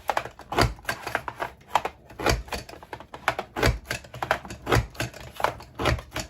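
A Creative Memories banner border maker cutting red paper banners, producing a rapid series of sharp mechanical clacks and crunches in an uneven rhythm, loud and close, with no voices.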